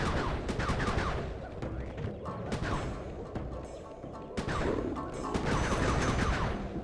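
Gunfire and impacts in the video game Sly 3: Honor Among Thieves come as rapid bursts of shots, crashes and clattering mechanisms, loud and dense throughout with brief lulls.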